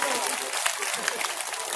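Hearty audience applause at a devotional gathering with a spiritual teacher, dense continuous clapping close and loud for a short stretch, with a voice faintly mixed in.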